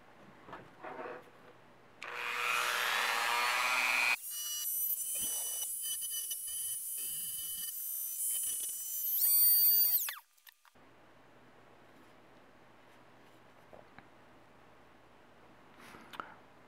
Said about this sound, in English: I myself am going to be wearing ear protection just because of the high-pitched noise this Dremel makes.